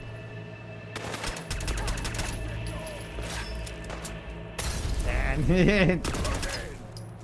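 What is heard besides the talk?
turret gunfire in Fallout London video game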